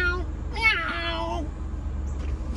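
A human voice imitates a cat with a drawn-out, rising and falling meow, close and clear over a low background hum.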